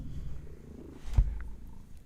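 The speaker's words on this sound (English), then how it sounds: "Aw, those are some big purrs." A cat purrs on a lap in a low, steady rumble, soft and close, with one brief louder bump partway through.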